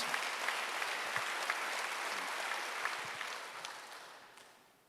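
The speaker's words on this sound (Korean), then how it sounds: "박수 하세요." A church congregation at a Wednesday worship service applauds together in a sustained, even clatter of many hands that fades out toward the end.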